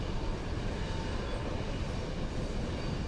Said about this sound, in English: In Mombasa, this train is headed for the port. It's carrying export containers and some empty.